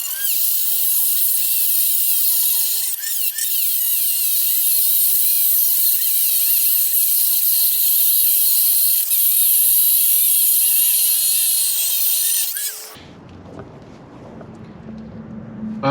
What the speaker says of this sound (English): we're going to use the Dremel to trim these out